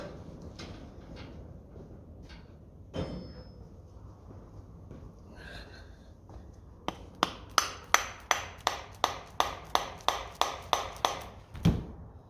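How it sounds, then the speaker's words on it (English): A dozen sharp, ringing taps in a quick steady series, a plastic hammer striking a metal part of a Lucas D3A4 distributor up close, preceded by a few softer knocks and clatter. "We have to give him a tap of the plastic hammer."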